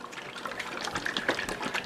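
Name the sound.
marinade poured from jar into measuring cup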